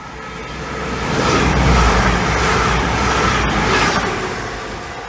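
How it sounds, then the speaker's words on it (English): A fast train passes close by, building from a rushing roar to a loud peak and fading away over a few seconds, with no one talking. "here's a fast train."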